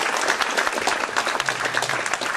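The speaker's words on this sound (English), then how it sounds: "If everybody would join me in a round of applause," An audience at a SETI Institute ice cream social applauds Jenny and the team with steady, dense clapping that carries on throughout at an even level.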